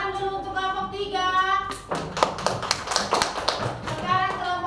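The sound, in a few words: classroom children clapping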